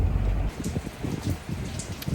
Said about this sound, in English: Rain, the end of June in Texas.